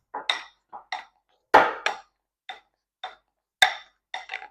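A large tablespoon scoops sour cream and taps against a bowl in the kitchen, giving a string of short, close clinks and scrapes with brief pauses between them.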